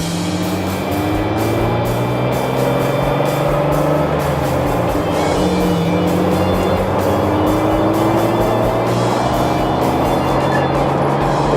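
A 2002 Jeep Wrangler accelerating through the gears, a steady loud engine drone heard from inside whose pitch climbs slowly through each gear, then drops at each shift before climbing again, with road noise throughout.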